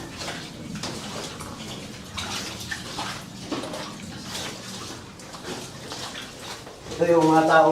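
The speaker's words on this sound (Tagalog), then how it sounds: "Yung tubig na nanggagaling doon, dito dumadaan sa gitna." Water rushes steadily through a cool cave inside a gold mine, a constant nearby flow, with voices rising briefly near the end.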